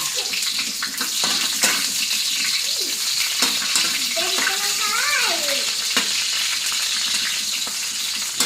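Garlic and onion frying in a pan for a crab dish with coconut milk and curry powder, giving a steady close sizzle with occasional stirring clinks and no talk.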